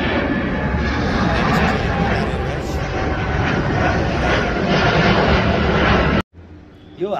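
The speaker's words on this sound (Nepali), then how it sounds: "एयरपोर्ट प्लेन फ्लाइट पनि उड्यो हामी एकदम नजिक छौँ नियरली बाई एयरपोर्ट कतार यो एयरवेज उड्यो है" A Qatar Airways airliner takes off near the airport in Jadibuti, Kathmandu. Its engines make a loud, close, steady roar that lasts for several seconds and then cuts off abruptly.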